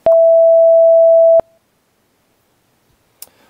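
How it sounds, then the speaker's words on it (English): Pure generated tone at the note A5, 880 Hz, one octave above A4, a clear steady beep lasting just over a second before stopping sharply, followed by near silence and a faint click. "The result would be an octave above that A4 at A5, 880 Hz."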